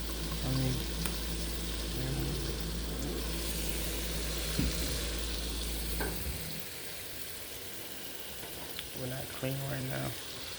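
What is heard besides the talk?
red bell peppers cooking in a pan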